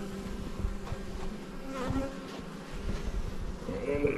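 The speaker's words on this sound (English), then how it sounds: "These bees are doing really well so far." Honey bees buzzing around the entrance of an Alaska hive: a faint, continuous insect drone with individual bees whirring past close by.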